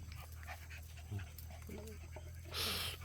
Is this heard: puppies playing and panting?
yes